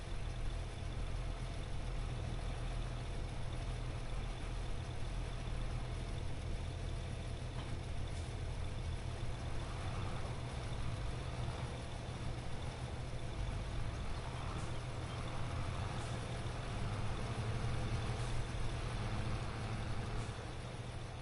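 A tractor engine idles in the farming game Farming Simulator 22, a steady low rumble that stays even and fairly quiet throughout with no talk over it.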